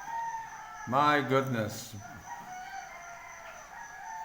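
A rooster crows loudly and close by in the Philippines, one long harmonic cock-a-doodle-doo with other fowl faint in the background, while someone briefly speaks over it.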